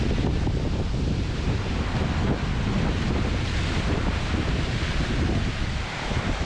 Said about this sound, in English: Sometimes two waves can combine and they go a mental direction. They completely soak you.